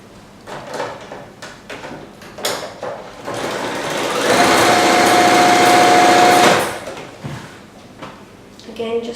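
A sewing machine stitches patchwork fabric strips for a cushion in one steady whirring run of about two seconds, close and loud, framed by quieter handling clicks and a person talking before and after.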